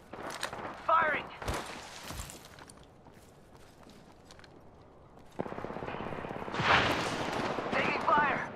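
Rapid bursts of automatic gunfire in the Apex Legends battle royale shooter: a few sharp volleys at the start, a quiet stretch, then sustained loud firing with ricochet-like crackle toward the end, with brief game voice lines.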